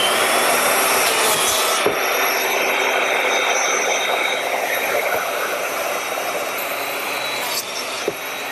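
A biscuit joiner cuts slots into board edges in a woodshop while building a Shaker woodbox, giving a loud, steady, continuous whine and rasp that holds for the whole stretch with no talking.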